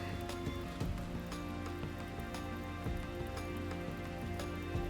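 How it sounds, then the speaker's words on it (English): Rain in the video game RimWorld, a steady patter of drops on a surface with a few sharper taps, moderately faint and continuous, alone without talk. "This with the rain."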